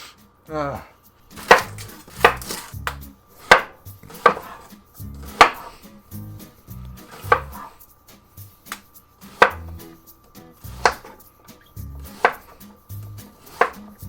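Knife chopping onions on a cutting board with a not very sharp blade, sharp rhythmic thuds in irregular bursts of several strokes, close and clear with no talking.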